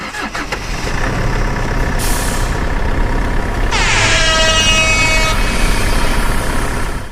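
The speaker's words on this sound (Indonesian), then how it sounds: "aku sedang berada di dalam terminal Jombor" Inside Jombor bus terminal in Yogyakarta, a big bus engine rumbles loudly and continuously while long, blaring air-horn tones sound over it, with hissing bursts and the steady drone of idling vehicles nearby.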